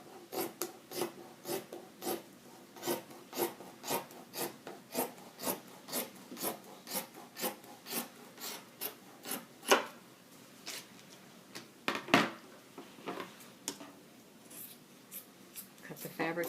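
Scissors snip steadily through pillow-cover fabric, a close series of quick crisp cuts at an even rhythm with a few louder snips, no talking.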